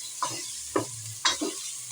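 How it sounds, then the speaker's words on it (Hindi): Chicken and onion fry with cumin in a pan without oil, the sizzling broken by three or four scraping stirs spaced about half a second apart, close and clear. "1 टीस्पून हम जीरा डालकर इसकी भुनाई कर लेंगे।"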